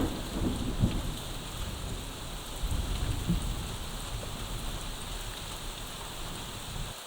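Steady rain falls through a forest, a dense hiss of drops with a few low rumbles and heavier patters, continuous and fairly close with no voices.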